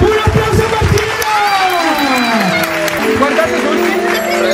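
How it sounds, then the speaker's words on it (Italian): Children and adults at a birthday pool party clap and cheer for a girl during a magic show, a busy burst of applause mixed with excited voices and talking. "Un applauso a Martina!"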